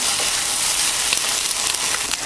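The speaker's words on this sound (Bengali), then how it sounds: "আর এই ডিমটাকে ঝুরি ঝুরি করে ভেজে নিতে হবে।" Beaten, lightly salted egg sizzles steadily in hot oil in a pan as it is fried and stirred into crumbly scrambled pieces. The hiss is dense and constant, with faint stirring clicks and no talk.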